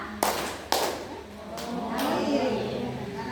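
Two sharp hand claps about half a second apart in a numeracy counting exercise, with a voice talking around them and fainter taps afterward.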